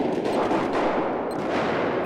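Continuous close-range gunfire in Battlefield 4 during a close-quarters match, a dense, loud barrage of overlapping shots with no pause, consistent with shotgun blasts amid other weapons.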